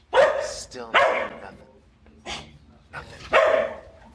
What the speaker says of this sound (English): I wonder how the barking dog's going to sound.